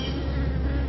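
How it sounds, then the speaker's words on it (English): A steady, dense insect buzz drones continuously from a swarm of bees nesting inside a house's walls, with no voices. "A swarm of bees has moved into her walls."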